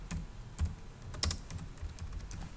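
Computer keyboard typing while a level is renamed in Revit architecture software, a quick run of crisp key clicks in a steady rhythm, close and moderately loud, with no talking.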